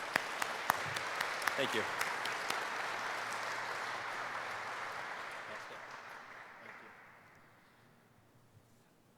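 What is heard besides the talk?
applause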